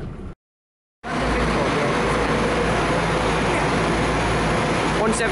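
Chiltern Railways train passing through a station at a former tram terminus, a loud, steady broadband rumble after a brief silence.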